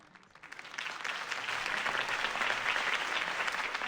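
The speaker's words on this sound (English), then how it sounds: "could have heard that applause" A crowd in Batman: The Telltale Series bursts into applause after a campaign speech, building quickly and holding steady, dense clapping filling the space for several seconds.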